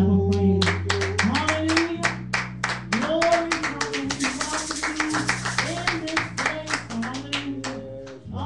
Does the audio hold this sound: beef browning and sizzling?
no